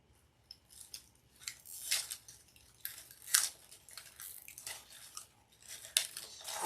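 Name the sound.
zip tie pulled tight on grapevine wreath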